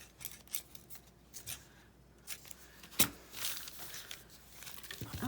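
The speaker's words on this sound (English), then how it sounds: "so I'm gonna cut the ends off of these, cut the ends off of this one" Scissors snip the ends off strips of distressed tape, making faint, sparse cuts close by, with one sharper snap and some light paper rustling in between.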